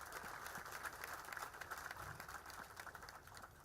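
Applause from an audience at an outdoor groundbreaking ceremony for the Ruston Buc-ee's, heard as a faint, steady wash of distant clapping that never breaks or swells.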